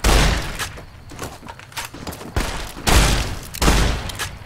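Gunfire in Fallout New Vegas in hardcore mode: loud, close bursts of shots and booms arrive in several clusters, with a quieter rattling stretch in between.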